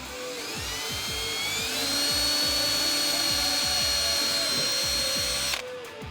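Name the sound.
power drill drilling hole for fender flare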